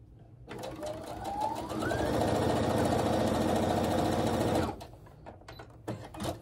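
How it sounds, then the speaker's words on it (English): Domestic sewing machine stitching quilt block pieces for a Poutama quilt, running steadily for about four seconds as its pitch rises at the start, then stopping, with quiet handling sounds after. "we're just going to sew down the side of that"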